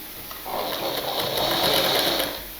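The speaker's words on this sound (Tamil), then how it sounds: "இந்த மடிப்போட பள்ளத்தில் தையல் போடணும்." A sewing machine stitches along the fold of a party blouse, starting up after a brief pause into a fast, steady mechanical whirring rattle close to the microphone.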